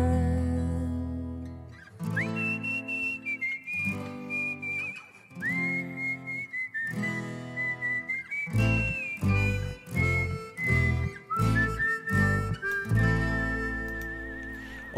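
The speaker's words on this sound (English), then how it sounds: "Oh, I love that whistling." A person whistles a melodic tune alone, with clear sustained notes and short phrases that step up and down in pitch for about fifteen seconds.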